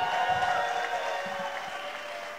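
At a stage comedy show, a crowd applauds and cheers, a broad wash of clapping and voices mixed with a steady tonal hum that fades slightly toward the end.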